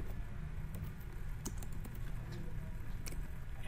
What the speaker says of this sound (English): Go to start menu, type here device manager